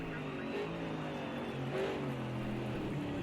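V8 race car engine in Project Cars 2 during an FIA GT Championship 98 race at Hockenheim, droning steadily at high revs with shifting pitch and a brief rise, continuous throughout.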